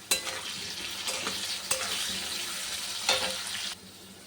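Potatoes sizzle steadily in a pan after cumin seeds, ginger paste, salt and turmeric have gone in, with sharp scraping stirs breaking through the fry every second or so, close up and without voices.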